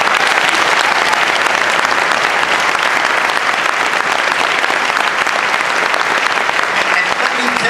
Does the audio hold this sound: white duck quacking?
no